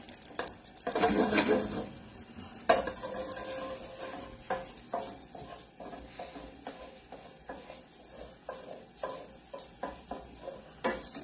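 Garlic and hot pepper frying in hot oil in a pan for pasta e fagioli, a steady close sizzle with stirring and scraping sounds throughout.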